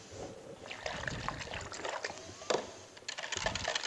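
A whisk stirs a tres leches milk mixture in a bowl, giving soft, irregular liquid sloshing and light clinks close by.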